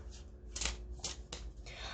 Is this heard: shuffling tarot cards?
yes